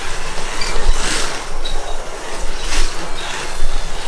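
A Scalextric AMG slot car laps a track with a steady buzzing electric whir that swells and fades as it passes, at a fairly loud, constant level.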